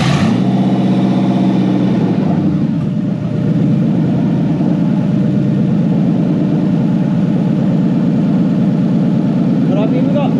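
Toyota 1UZ V8 engine idling in a Lambo kit car during wiring work with Link Monsoon coil-on-plug ignition, a steady low rumbling idle heard close up throughout.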